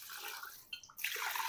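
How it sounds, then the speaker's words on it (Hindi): Water pours into a pressure cooker pot for a beef yakhni, a steady splashing stream that thins briefly midway, then resumes fuller and louder; no voices. "अब मैंने इसमें 7 गिलास पानी शामिल कर देना है।"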